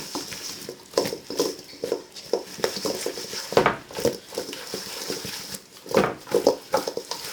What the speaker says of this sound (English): now we want to toss this like so